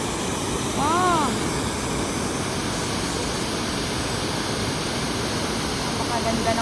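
Steady broadband roar of Little Qualicum Falls, a waterfall in a provincial park, heard as constant rushing water with a brief voice exclaiming early on over the noise.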